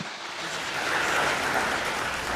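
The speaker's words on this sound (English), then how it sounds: "A round of applause to him." A crowd at a college of engineering alumni gathering breaks into sustained applause, a dense, continuous wash of clapping that swells slightly and holds steady without pause.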